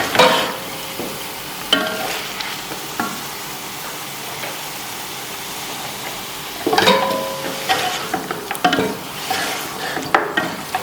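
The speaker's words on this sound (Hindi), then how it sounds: "इसको अच्छी तरह भूनने के बाद हम इसमें चिकन डालेंगे" Frying and stirring in a pot while cooking chicken biryani, with close scraping and clinking bursts from a spoon over a steady low sizzle, with a busier patch of stirring toward the end.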